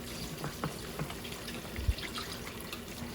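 Wine poured into a cooking pot, a soft liquid trickle and splashing with a few small drips over a few seconds, close and fairly quiet.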